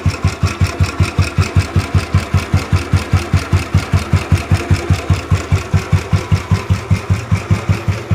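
An old Royal Enfield Bullet motorcycle idles, heard close up from the engine side, with a loud, steady, evenly spaced thumping beat and no talk.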